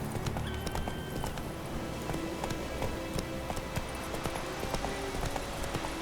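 Horse hooves clip-clopping at a run in The Witcher 3, a steady rhythmic gallop over game music and ambient effects, with a voice briefly audible.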